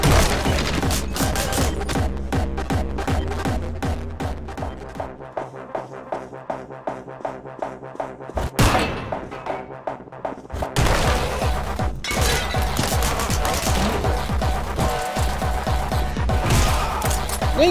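Rapid bursts of gunfire in the video game Anger Foot, dense and loud with a brief lull midway before the shooting resumes, mixed with crashes and booms.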